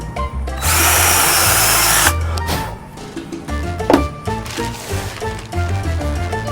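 A power drill whirs loudly for about a second while cumaru decking is installed, then shorter clicks and handling knocks of the work follow close by.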